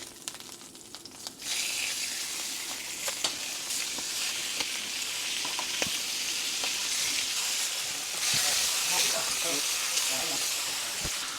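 Beef shanks sear in a hot pan, a sharp sizzle and hiss that jumps up after a quieter start and then holds strong, with scattered crackles and faint speech underneath.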